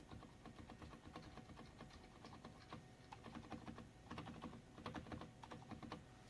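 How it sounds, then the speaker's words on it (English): The spacebar on a Topre Filco Silent keyboard is tapped in repeated soft, muffled thocks. The clusters of keystrokes are quiet and close, with no voices. "I'll just do the spacebar because I'm really impressed with this spacebar."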